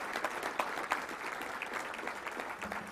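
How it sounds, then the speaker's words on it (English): A banquet crowd at a touchdown club luncheon gives a short round of applause, steady moderately distant clapping that holds for a few seconds before beginning to thin. "Let's give him a round of applause for turning out to be such a great."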